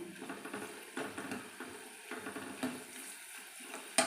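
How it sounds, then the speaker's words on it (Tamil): Dried manathakkali (black nightshade) seeds crackle and pop on a hot pan, a faint sizzle with brief bursts of frying about once a second. "பொரியுது பாருங்கள் இப்படி பொரியணும்"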